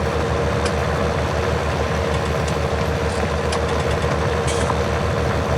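A tractor engine idles in the farming game Farming Simulator 19 with a loud, steady low rumble and a fast even throb, continuous throughout and free of speech.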